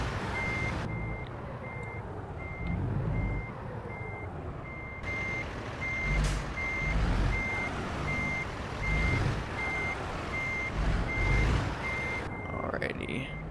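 A Peterbilt 567 in American Truck Simulator backs toward a trailer, its reversing alarm beeping steadily and evenly throughout over a low diesel rumble and bursts of engine noise.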